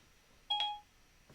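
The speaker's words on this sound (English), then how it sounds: "That was my phone, just decided to pitch in." A mobile phone gives a short electronic alert, a pair of clean beeping tones lasting about a third of a second in an otherwise quiet room.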